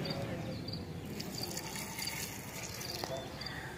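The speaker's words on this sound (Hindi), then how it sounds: "इसमें आप थोड़ा सा पानी डालेंगे" Water poured into a cooking pot of beef korma, a steady broadband splashing rush that runs continuously and fairly close throughout.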